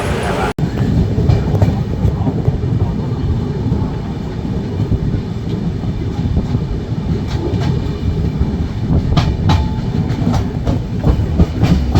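Sambaleswari Express passenger train running steadily on rails after leaving a station bound for Sambalpur, a continuous close rumble with faint clickety-clack throughout and a few brief squeals near the end.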